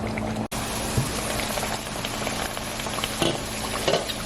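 Lasagna noodles boil under a lid in a covered pot, giving a steady, dense bubbling hiss with occasional small pops and knocks, close and continuous, with no talking.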